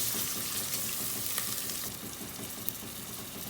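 Ingredients for a potato and bell pepper curry fry in a pan, a dense, continuous close sizzle with faint stirring clinks and no talking.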